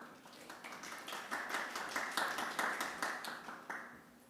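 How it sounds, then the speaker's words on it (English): Applause from a symposium audience in a Berlin room, steady rapid hand clapping that swells, holds for several seconds and then thins out, heard at moderate distance. "There's applause in the room."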